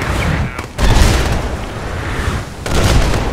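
Heavy artillery fire in the Post Scriptum battle for Arnhem, with dense, loud booming blasts and rumbling explosions that merge into a continuous barrage and briefly drop away twice.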